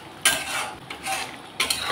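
Prawn curry sautés in a pan with a soft sizzle and several scraping stirs of a spoon against the metal, close and moderately loud, with no voices.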